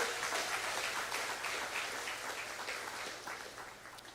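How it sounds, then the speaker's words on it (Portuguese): A church congregation claps for the Lord in a steady, faint wash of applause heard from a distance that slowly fades toward the end. "Pode aplaudir o Senhor"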